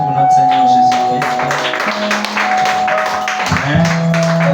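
A church congregation applauds in acclamation during a French-language evening service, steady crowd clapping over sustained organ or keyboard tones and some voices throughout.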